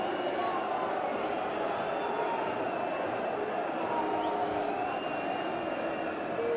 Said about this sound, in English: Just have to listen to the Leeds crowd